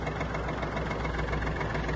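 A Kubota L1-185 Japanese mini tractor's small diesel engine runs steadily, a close, even throbbing hum with no breaks and no voices over it.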